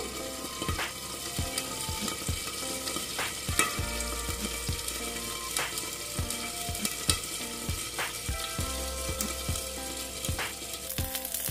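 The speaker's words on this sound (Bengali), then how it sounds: "আর দেখো কারি পাতা দিয়ে দিলাম। দিয়ে একটু ঢেকে দিচ্ছি, তা না হলে সর্ষেগুলো একদম ছিটে উঠবে" Mustard seeds and curry leaves splutter in oil inside a covered pan, with a continuous close sizzle broken by frequent sharp pops and crackles at an uneven rhythm, moderately quiet and without voices.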